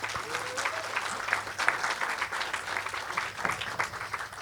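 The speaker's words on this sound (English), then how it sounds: "please give her and the Office of Native American Programs a round of applause" Audience at a remembrance and healing event applauding the Office of Native American Programs, a sustained, fairly distant round of clapping from many hands, with a brief voice near the start.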